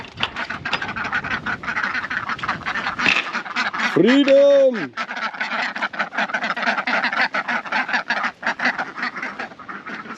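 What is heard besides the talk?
ducks quacking as they are let out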